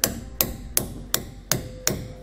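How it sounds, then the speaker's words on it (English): A hammer taps a new suspension bushing into a trailer leaf spring hanger through a protective plate, six sharp metallic knocks at an even pace of roughly one every third of a second, close and clear with no talk. "we can just use a hammer instead of the C-clamp, just kind of tap it in"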